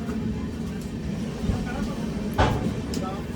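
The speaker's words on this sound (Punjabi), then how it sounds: "ਟ੍ਰੇਨ ਸਾਡੀ ਚੱਲ ਪਈ ਆ" A train pulling out of Amritsar station makes a low, steady rumble with a few faint clacks and bumps, while voices murmur in the background.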